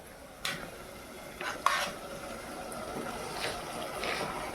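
A spoon stirs potato fry in a pan during home cooking, with scattered clinks and scrapes against the metal over a faint sizzle, close and fairly quiet, no talk.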